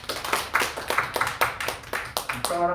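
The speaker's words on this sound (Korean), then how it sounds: "하나님께 영광을 박수 올리겠습니다." A church congregation claps together at the close of a Korean Thursday evening worship service, the claps landing in a steady, even rhythm and ringing close and crisp before fading out at the end.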